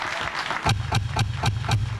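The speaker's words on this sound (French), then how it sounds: "On applaudit pour les Bangante, s'il vous plaît." An audience at a Bangangté USA 10th anniversary celebration in Washington, D.C. claps together in a steady rhythm, about six sharp beats in two seconds, over a low background hum.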